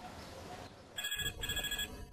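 A telephone rings in two bursts of electronic trilling, near and clear, after a stretch of quiet room sound.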